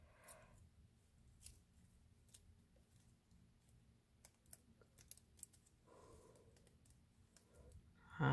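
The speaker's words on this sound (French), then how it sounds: "Donc, je vais enlever la pellicule double face." Backing film peeled off double-sided tape during an Advent calendar tea craft, heard as faint, scattered crackly ticks that swell into a louder tearing rasp near the end.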